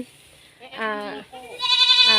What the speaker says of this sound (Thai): ตัวที่ร้องแบ่อยู่ตรงนั้นก็จะเป็น แบ่หรือว่าแพะนะคะ